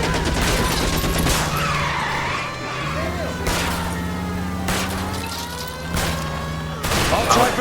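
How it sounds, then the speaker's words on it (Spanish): Glitched machine gun fire in a video game, a droning, looping buzz of shots that stutters and cuts in and out, loud and steady, mixed with game voices and engine noise. "cómo se ha bugueado el ruido de la ametralladora"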